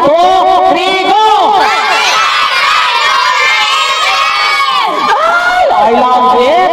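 Children on an island shout together at full volume in a crowd cheer for a grandmother's birthday, a dense, excited unison burst that stays loud throughout with overlapping high voices.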